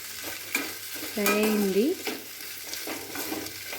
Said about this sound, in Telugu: ఒక 2 మినిట్స్ ఫ్రై చేసుకొని దించేసుకోండి